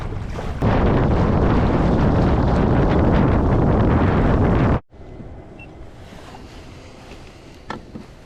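Strong wind on Lake Murray buffets the microphone in a loud, roaring rush for several seconds, then cuts off abruptly to a quieter background of light wind and water.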